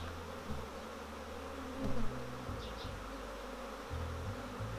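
A steady insect buzz hums throughout, a dense drone of honey bees around a hive during a beekeeping inspection of brood frames, with a few low thumps and faint handling noises.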